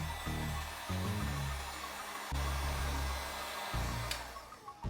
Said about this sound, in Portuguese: vou usar um secador de cabelos